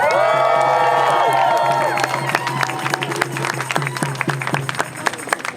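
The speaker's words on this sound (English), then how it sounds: "Let's give them one more round of applause." Crowd at a San Diego protest applauding and cheering, with loud whoops and shouts at first, then settling into scattered clapping and cheers.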